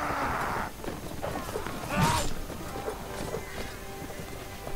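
Horse hooves clip-clop in a Mount & Blade battle, a steady run of hoof beats amid the game's noisy backdrop, with a brief louder burst partway through.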